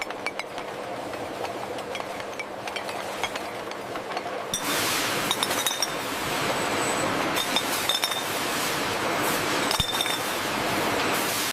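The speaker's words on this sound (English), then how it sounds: "Thousands of sterile glass bottles line up for filling." Sterile glass bottles clink together on a juice filling line in a banana stem factory, a steady run of bright chinks over constant machine rumble, growing louder and denser partway through.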